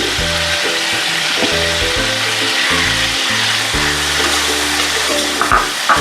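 Onion sizzles steadily in a hot pan of oil while cooking a traditional Bengali shrimp and ridge gourd dish; the constant frying hiss sits beneath prominent background music for the whole stretch.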